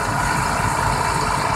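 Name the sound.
IH Quadtrac 450 tractor engine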